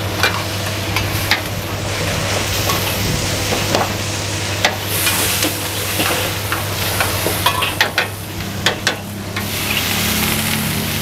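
Chicken breast pieces frying with ginger in a hot pan while being stirred, a continuous sizzle broken by scraping and clinking of the utensil, close and steady with no talking.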